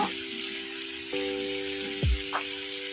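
Chopped onion goes into hot oil in a pan for ridge gourd chutney, giving a loud, constant hissing sizzle up close with faint clinks, and no one speaking.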